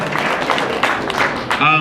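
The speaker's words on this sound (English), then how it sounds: "let's give him a round of applause" Audience at a holiday party and toy drive applauds Senator Ed Hernandez, a dense, close wash of clapping with crowd voices mixed in, steady throughout.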